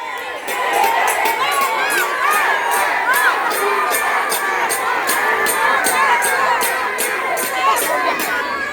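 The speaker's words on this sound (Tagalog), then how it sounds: "Ang sigaw ng mga tao ay Duterte." A large rally crowd in Manila chants and cheers for Duterte, a dense, loud roar of many voices with a rhythmic pulse of repeated shouts running steadily throughout.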